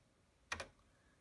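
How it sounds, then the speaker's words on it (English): A TRS-80 Model III keyboard gives a quick double keystroke, two close, crisp clicks in a single brief burst against near silence. "So you can type DB"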